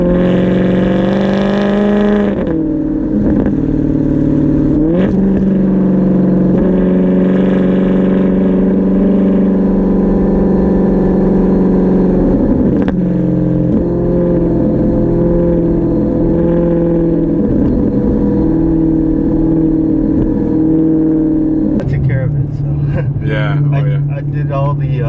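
Straight-piped 2008 Maserati GranTurismo engine while driving, a loud continuous droning exhaust with rising and falling revs and gear changes, heard from inside the car with people talking over it.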